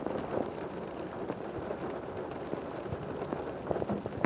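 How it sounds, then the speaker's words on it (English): Steady late-March rain falls outdoors in the Rocky Point recharge zone, a continuous broadband patter with some wind buffeting on the microphone and occasional low rumbles, with no talking. "Here in late March, a nice steady rain in the RPRZ."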